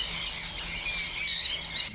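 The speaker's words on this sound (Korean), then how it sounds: "수많은 새들이 자유롭게 날아다닐 수 있을 만큼 널찍한 농장엔 알록달록한 앵무새가 가득" Dense chorus of colorful parrots at a large open bird farm, shrill squawks and squeals layered into a constant raucous wash, nearby and steady throughout.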